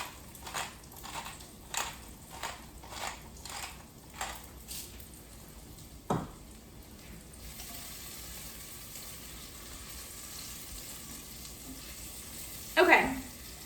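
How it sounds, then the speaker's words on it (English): Chicken pieces searing in a hot pan for coq au vin, giving a run of short crackling sizzle bursts at first, then a low steady frying hiss, and a louder splash of sizzle near the end. "Even though these are mostly going to get submerged in liquid when we cook them, I still want to give them a good sear."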